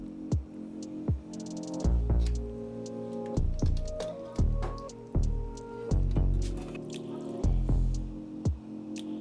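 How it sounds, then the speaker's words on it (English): Short rib and broth going into a pot for honey miso sauce, a series of wet plops, splashes and drips, close and moderately loud, with liquid pouring in between. "now we're just gonna add our short rib back in, add our broth"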